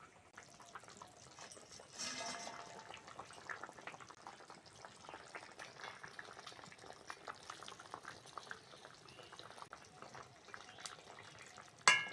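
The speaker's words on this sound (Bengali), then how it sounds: "এবার ঝোলে মাছটা দিয়ে দেবো" Parshe fish is added to a thin taro and potato curry simmering in a village kitchen, with a soft, steady bubbling and light stirring at close range and a sharp knock at the end. Nobody talks.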